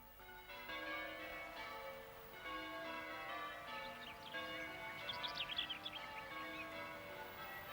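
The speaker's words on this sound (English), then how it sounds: "Today, Jubilee Day, 77 years later, Ashton Church boasts 6 bells, just as George Bowman had wanted." Church bells peal at Ashton Church, a ring of six bells sounding a continuous, faint and distant wash of overlapping bell tones.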